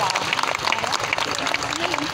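An audience at an education awareness event applauds the teachers, dense close clapping that fills the whole short stretch with a crowd murmur underneath.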